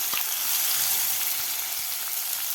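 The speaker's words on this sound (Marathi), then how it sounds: "यामध्ये घालायचं आपल्याला कांदा." Chopped onion sizzles in hot oil with chilli and curry leaves in a pan while kanda poha is being cooked, a steady, close, loud frying hiss throughout.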